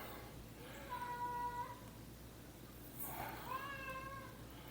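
A cat in a kitchen gives two drawn-out, plaintive meows about two seconds apart, fairly faint and close, over a quiet background hum with no speech.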